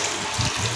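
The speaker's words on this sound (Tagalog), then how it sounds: "Awas na ang tubig guys." Water overflows and spills at a water source, a short, steady rushing gush that is fairly loud and close, with no talk.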